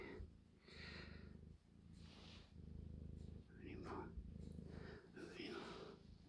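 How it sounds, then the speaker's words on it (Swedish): A cat purring close up while washing its fur, a steady low rumbling purr running throughout with soft breathy sounds, while a person talks quietly over it. "Hon spinner."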